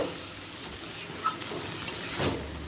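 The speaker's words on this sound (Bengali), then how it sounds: "মোচাটা এবার মশলার সাথে ভালো করে কষিয়ে নেব" Boiled banana flower stir-fried with spices and potato in a pan, giving a low, steady sizzle and soft frying hiss with faint stirring scrapes, fairly quiet and continuous.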